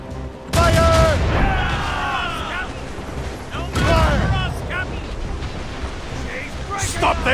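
Ship cannons firing in Assassin's Creed Rogue naval combat, two heavy booming volleys with rumbling tails and crashing sea noise, mixed with shouted crew voices.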